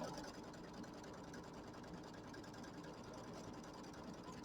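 Embroidery machine stitching the batting placement line for a mini quilt in an 8 by 8 hoop, a steady, continuous mechanical whir that holds evenly throughout with no talk.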